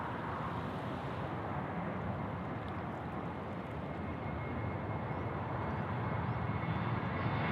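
A jet airliner at Sydney Airport makes a steady, broad engine roar that holds at an even level throughout, rising slightly toward the end.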